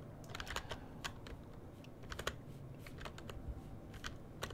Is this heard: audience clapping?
no